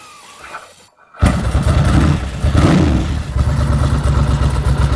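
A motorcycle engine with a dry clutch revs up loudly after a brief silence, a dense mechanical rattle riding over the steady close-up engine roar throughout.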